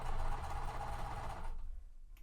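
A sewing machine runs steadily while stitching quilt seams, its motor whirring and needle clattering up close, then it stops abruptly and only faint quiet remains.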